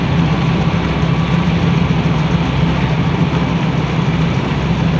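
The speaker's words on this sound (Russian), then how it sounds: "Здесь дорога такая более ухабистая." A car drives along a bumpy dirt road through taiga forest, its engine giving a steady, loud low rumble with continuous road and cabin noise and no talk.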